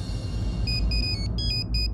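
A mobile phone ringtone chimes in repeated bright electronic tones over a steady low hum, the ringing pattern starting partway through and continuing to the end.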